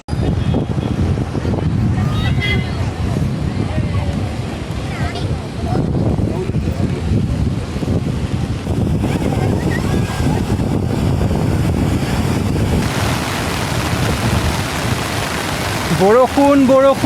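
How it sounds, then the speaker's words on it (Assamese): Heavy rain pours steadily on a coastal beach trek at Gokarna by the Arabian Sea, a loud, dense wash of drops and wind noise filling the scene, with a voice speaking over it. "বৰষুণ বৰষুণ বৰষুণ বহুত জোৰত আহিছে বৰষুণ"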